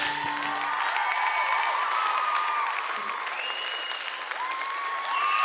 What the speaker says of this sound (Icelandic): Gefið öllum þáttakendunum gott klapp.